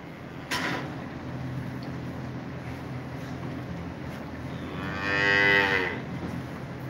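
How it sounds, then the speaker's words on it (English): Dairy cattle on a farm, with a short moo near the start and a louder, drawn-out moo toward the end over a steady outdoor background. "Yeah, we have dairy cattle."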